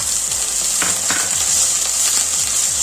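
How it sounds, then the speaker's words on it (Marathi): Masala and green peas sautéing in a pan for methi matar malai give a steady, close sizzle with occasional scrapes and clinks from stirring, and no voices. "आता हे सगळं असं एकत्र मस्त परतून घेऊया."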